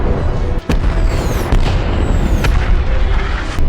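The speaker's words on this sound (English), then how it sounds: "Suddenly, missiles strike." Missile strikes explode in a film scene, making continuous loud booming rumble with several sharp blasts cutting through a dense wall of noise.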